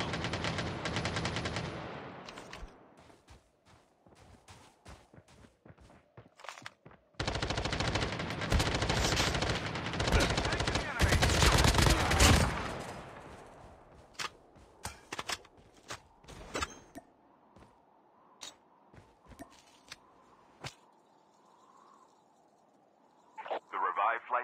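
Gunfire in a battle royale video game, with bursts of automatic fire and scattered single shots ringing out at moderate loudness, while a voice speaks over the action.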